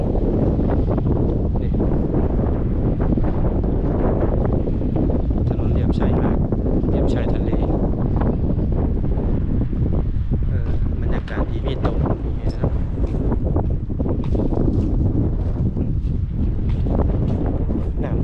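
Strong seaside wind at Chonburi, Thailand, buffets the microphone with a steady, loud roaring rumble that persists through the whole stretch, with faint voices partly buried beneath it.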